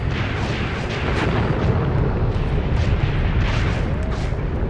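Dense, continuous rumble of artillery fire and explosions in a WW2 video game battle, American mobile artillery shelling German tanks and half-tracks, loud and sustained with overlapping booms.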